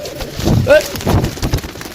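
Pigeons coo in a loft of birds kept for sale, with a low throaty coo rising near the middle under ambient chatter and shuffling.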